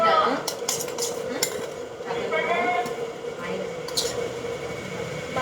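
Spicy sweet corn masala with pepper being stirred in a pot, with a steady clatter of a spoon against metal and soft scraping running throughout. A voice talks over the stirring.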